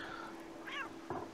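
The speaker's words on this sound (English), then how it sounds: "Meow." A cat meows in a virtual reality town-building game: two short, faint meows about half a second apart over a low steady hum.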